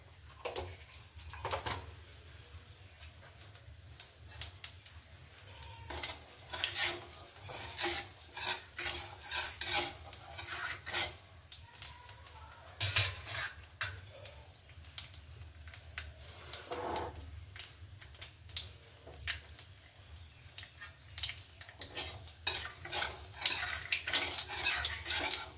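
Black cumin seeds crackle and sizzle in hot mustard-style oil left from frying fish, a steady close frying hiss with scattered pops and occasional stirring clinks of a utensil against the pan, no talking.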